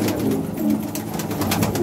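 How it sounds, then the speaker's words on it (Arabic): Pigeons coo steadily and close by in a bird loft in Jordan, a continuous soft burbling drone with overlapping calls. "هاي كلها حمام"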